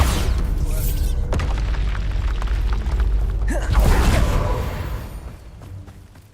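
Bombarda explosion spell cast in the Hogwarts Legacy game, a deep booming blast with rumbling low end and creaking debris, swelling midway then fading out.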